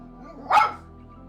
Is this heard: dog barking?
yes